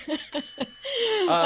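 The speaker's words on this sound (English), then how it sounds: "he gets the bell for that" A bell rings three times in quick succession, bright and close, followed by a voice in the last part.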